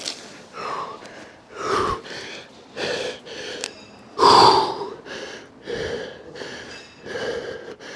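After rolling a 300-pound weight, a person pants heavily up close in a rhythmic run of loud gasping breaths, each one harsh and clearly separated, with no talk over them.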